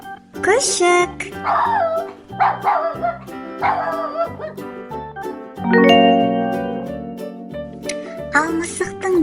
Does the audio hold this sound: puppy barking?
yes